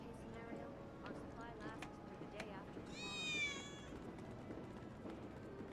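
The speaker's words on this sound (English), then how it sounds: "I think one of Betty's cats might be nearby." A cat meows once in the Final Fantasy VII Remake game world, a short rising harmonic call that stands out above steady game ambience and background voices.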